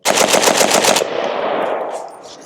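A rifle fitted with a Diablo trigger fires a fast, loud burst of rapid shots close by for about a second, followed by a fading echo and ringing tail.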